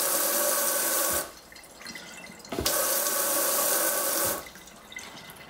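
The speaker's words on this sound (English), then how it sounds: "It spews hot and cold water and makes outstanding music." A sink tap spews hot and cold water in loud bursts that stop abruptly, a close rushing gush alternating with near-silent pauses and small drips.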